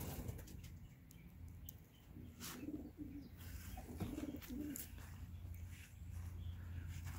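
Soft, low pigeon coos repeat a few times against a steady outdoor background hum, with faint bird chirps scattered throughout.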